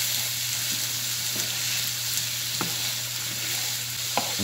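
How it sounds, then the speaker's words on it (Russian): Sweet peppers fry steadily in a pan, a loud continuous sizzle with occasional sharp pops and a low hum underneath. "сначала вот сладкий перец и жарить это 3 минуты где-то"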